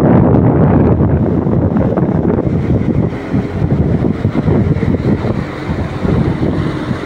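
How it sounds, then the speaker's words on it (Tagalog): Strong wind buffets the microphone aboard a boat on a sea trial, in loud, continuous roaring gusts, with a low rumble underneath. "Kaya na medyo malakas ang hangin."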